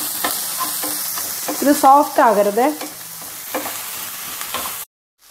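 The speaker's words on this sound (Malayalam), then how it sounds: "ഇത് ജസ്റ്റ് 1 മിനിറ്റ് എല്ലാം കൂടെ ഒന്ന് ഇളക്കി കൊടുത്താൽ മതിയേ" Sliced vegetables for spring rolls sizzle in a hot pan as they are stirred with a utensil, with steady frying hiss and scraping strokes while someone talks over it.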